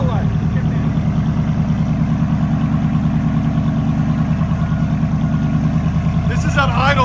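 A RAM truck's 6.4L V8 idles through a loud exhaust, giving a constant, close, throbbing low burble that stays even for several seconds, with a faint chirp near the end and no voices.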